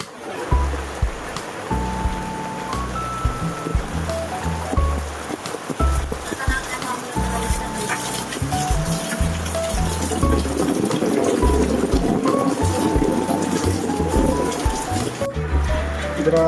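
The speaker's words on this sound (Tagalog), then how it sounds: "Grabe, walang tigil talaga yung pag-ulan." Nonstop rain during the rainy season pours as a steady broadband hiss beneath a household scene, with people talking throughout and the downpour growing denser toward the end.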